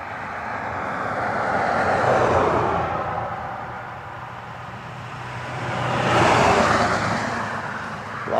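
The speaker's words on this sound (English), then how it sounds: "A lot of traffic this morning." Outdoor morning road traffic passes, two vehicles swelling in and fading away in turn over a constant broadband roadway rumble, loud and fairly close.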